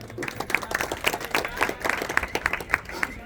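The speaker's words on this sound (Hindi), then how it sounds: "इस रोड की उपलब्धि के लिए विधायक जी के लिए जोरदार ताली आप लोग बजाएं" A crowd at an outdoor political rally claps in a loose, uneven burst of applause, steady throughout with scattered louder claps standing out.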